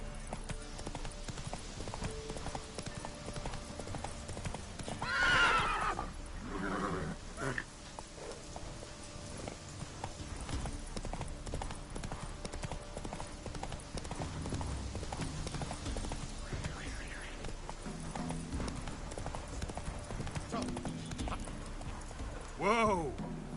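Roach, a horse in The Witcher 3, gallops with a steady, continuous clip-clop of hooves, joined by brief snorts and bursts of game speech and background chatter.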